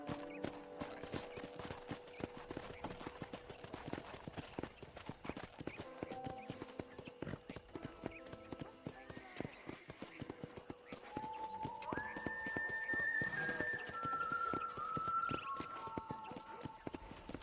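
Horse hooves clip-clop at a steady walking pace on a ranch in the Red Dead Redemption video game, with a continuous rhythmic clatter, someone talking over it, and tonal game sounds later on.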